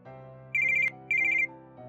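A phone rings with an incoming call: two bursts of a bright, warbling electronic ringtone, close and clear, over a soft sustained tonal background.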